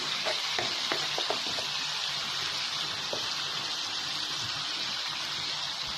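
Masala spices frying in oil in a pan for muttar paneer, a steady loud sizzle with a few early clinks of a spoon stirring, close up and no voices.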